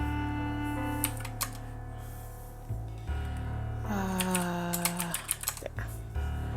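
Computer keyboard typing during a streamed point-and-click game session: bursts of quick key clicks over steady game music and a low hum, close and moderately soft.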